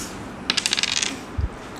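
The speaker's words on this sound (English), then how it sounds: "It's time for team A to roll the dice." Dice are rolled in a classroom card game: a quick run of light rattling clicks tumbles for under a second, then a short dull knock follows as they settle, heard close with no talking.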